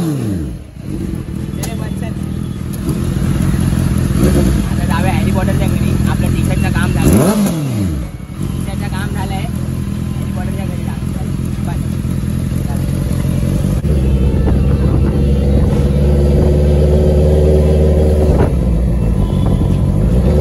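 Engine of a sound-and-light vehicle idles and revs at a music band event, a steady loud rumble with rising and falling revs throughout, voices talking over it.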